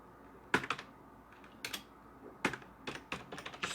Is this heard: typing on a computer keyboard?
yes